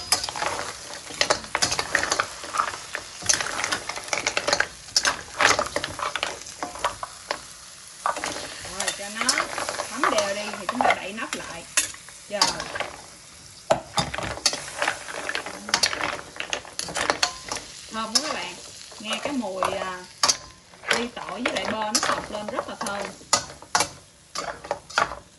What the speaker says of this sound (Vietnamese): Ta sẽ làm là cua và ốc xào bơ tỏi.